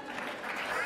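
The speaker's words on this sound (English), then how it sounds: "Yes, you guys can clap for that." A short burst of audience clapping at a talk by a music producer, a soft, dense patter of hands under a faint voice.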